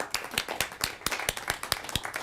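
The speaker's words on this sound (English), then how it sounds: "One more clap" Clapping at a city council regular session, a small group of hands producing distinct, fairly regular individual claps in quick succession, close and moderately quiet, with no talk over it.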